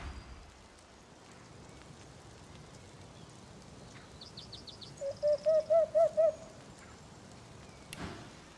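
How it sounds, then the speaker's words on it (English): Owls hoot in the Owlry of the video game Divinity: Original Sin 2. After a brief higher call, a run of about six evenly spaced, fairly loud hoots rises over a soft rain-like ambient hiss. "This is the Owlry, Lord Kem's communications link with the rest of Rivellon."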